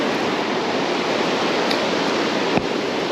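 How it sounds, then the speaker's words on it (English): The Nantahala River runs high and discolored after heavy rain, a continuous close rush of whitewater with one brief knock near the end. "River is fairly high this morning."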